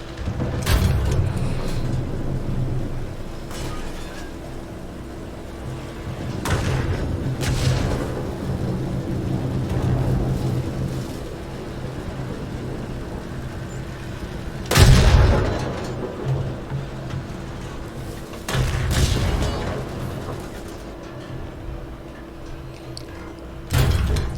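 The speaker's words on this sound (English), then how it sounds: "When I see the machine gun fire" A video game battle in a desert street, with heavy booming explosions and bursts of gunfire spread across a constant low rumble. Several sharp blasts stand out, one especially loud partway through.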